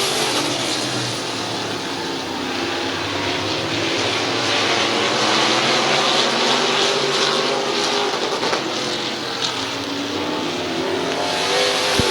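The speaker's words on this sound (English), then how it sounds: "White flag, 1 lap to go for Cox." Race cars roar around a speedway on the final lap, with a dense, loud wash of engines revving and passing continuously at mid distance.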